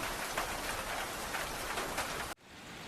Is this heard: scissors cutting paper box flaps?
no